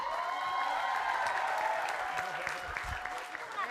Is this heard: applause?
yes